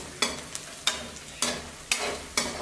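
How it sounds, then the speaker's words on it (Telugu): Chopped medium onion with garlic and dried red chillies sizzles in a pan, with five or six sharp bursts of hissing as the pieces are stirred and tossed, close by, with no voices. "ఒక మీడియం సైజ్ ఉల్లిపాయని ముక్కలుగా కట్ చేసుకుని యాడ్ చేసుకోవాలి యాడ్ చేసుకుని చక్కగా వేయించుకోవాలి"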